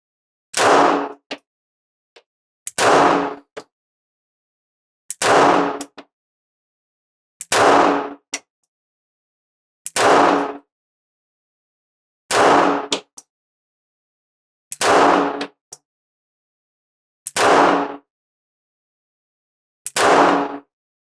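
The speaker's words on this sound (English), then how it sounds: "Here we go, right-hand target, 11 shots." A .380 ACP pistol, a Springfield Hellcat or Ruger LCP Max, fires at a paper target outdoors in cold weather, with sharp, evenly spaced shots about every two and a half seconds, each a crisp crack followed by a brief echo.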